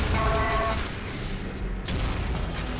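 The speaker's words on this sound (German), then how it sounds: "Letzter Schuss von der Flak Cannon hatten gekillt" A flak cannon fires in the video game Unreal Tournament 2004, heavy booming blasts layered over constant game noise and music, loud and close.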